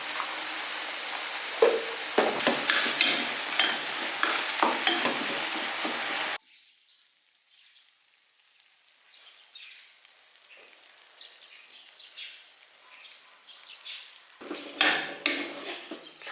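Diced meat stir-fried in a wok with soy sauce and oyster sauce, a loud steady sizzle with spatula scrapes that drops to a quieter bubbling hiss, then a burst of stirring clatter near the end.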